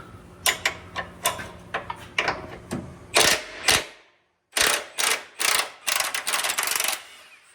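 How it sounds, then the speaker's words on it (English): Ratchet wrench turning a nut on an eccentric suspension bolt of a 2023 GMC Yukon during a coilover lift install, rapid metallic clicking in bursts with a brief pause midway. "I'll hold the wrench so the Johnny doesn't spin"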